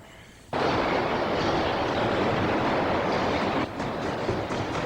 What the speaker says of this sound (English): So when the last train leaves, so does Tarquin, in search of quiet and relative safety